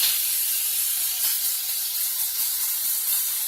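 Sausages sizzling in a pan over lower heat with a little olive oil, a steady bright hiss that holds evenly throughout with no other sounds.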